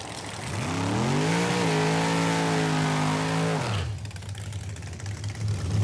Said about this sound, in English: I've never sat this close, no barrier, to cars launching